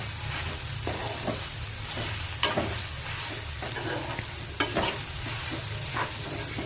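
Ginger garlic paste is stirred into frying soya chunks curry, a steady close sizzle with repeated spatula scrapes and small knocks against the pan, no talking.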